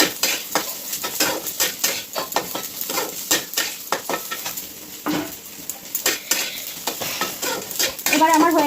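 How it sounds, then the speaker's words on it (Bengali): Cashews and cumin frying in a pan, stirred gently with a utensil: a steady sizzle runs throughout, with repeated scraping clinks of the spoon against the metal pan, close and fairly loud. "এগুলো একটু হালকা হাতে নেড়ে চেড়ে নেব।"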